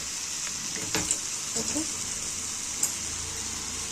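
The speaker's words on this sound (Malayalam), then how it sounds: "വീണ്ടും ഇതിങ്ങനെ എണ്ണയിൽ വയ്ക്കുക ഡിപ്പ് ചെയ്യുക" Achappam batter fries in hot oil for a homemade Christmas snack, a steady hissing sizzle with occasional soft pops and stirring clatter.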